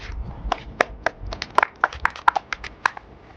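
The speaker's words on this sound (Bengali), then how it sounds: "দাদার জন্য হাততালি দিন" Scattered hand claps from a small group greet a first-place prize winner at an informal challenge prize-giving, sharp uneven slaps close by with no talking over them.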